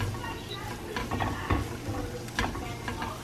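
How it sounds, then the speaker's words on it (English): Soft scrambled eggs cooking in butter in a hot pan, stirred continuously, giving a steady low sizzle with repeated scraping and stirring scuffs close by, no talking. "And then I'm just keep stirring because it's gonna keep cooking."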